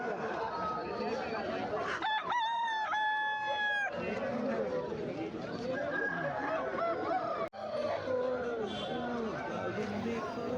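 An Aseel rooster gives one loud, drawn-out crow at the busy Erragadda Sunday market in Hyderabad. It rises over constant crowd chatter and nearby talking, with other poultry sounds mixed into the noisy background.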